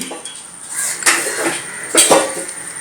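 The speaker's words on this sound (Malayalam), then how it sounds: "മുട്ട നന്നായിട്ട് കലക്കേണ്ടതാണ്." Eggs being beaten in a bowl produce clinking, scraping utensil strikes against the dish, with two sharper knocks standing out amid the steady clatter, close and fairly loud.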